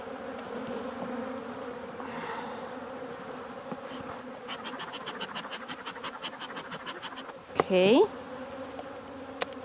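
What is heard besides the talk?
honey bees buzzing at hive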